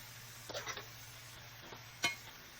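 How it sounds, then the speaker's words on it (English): Greens stirred in a cooking pot for Sunday dinner: faint scraping stir strokes over a low simmering hiss, with one sharp clink near the end, quiet and without speech. "Mix around those greens in there"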